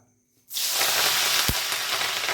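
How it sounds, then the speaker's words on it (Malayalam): A sudden loud sizzle bursts out as curry leaves hit hot oil, then crackles steadily and close by. "ഇനി ഇതാ കറിവേപ്പില, അതും കൂടെ നന്നായിട്ട് ഫ്രൈ ചെയ്തെടുക്കാം"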